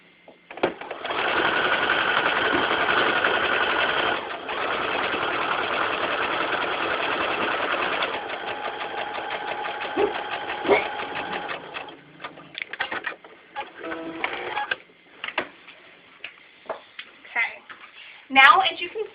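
A sewing machine stitches fabric squares for half square triangles with a loud, steady mechanical whir for several seconds, then slows into fainter, uneven runs and stops amid quiet handling.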